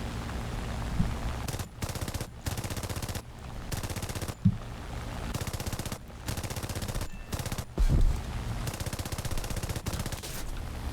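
Spitfire MkIa machine guns firing in War Thunder, heard as repeated close bursts of rapid gunfire separated by short silent gaps, with a few heavier impacts mixed in.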